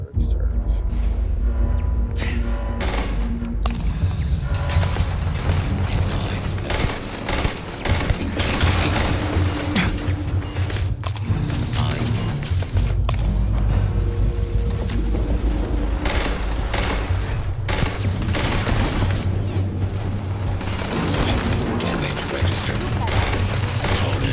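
Turret fire in Starfield rattles continuously as dense, rapid gunfire with booms layered in, loud and sustained throughout, while a voice talks over it.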